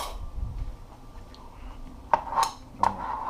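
A spoon clinking among dishes while trout is being cooked, two or three sharp metallic taps near the end after a quiet stretch of low room hum.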